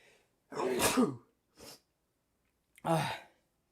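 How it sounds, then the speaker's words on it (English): A loud, close sneeze with a sharp explosive burst, then a short breath and a second forceful sneeze-like exhale, in a quiet room. "was my first sneeze, the whole live stream"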